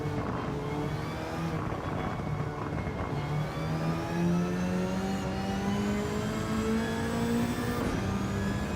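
A Toyota SGTE engine in a racing video game revs and climbs through the gears, a smooth rising drone that drops at each shift and then climbs again, loud and continuous with no voices over it.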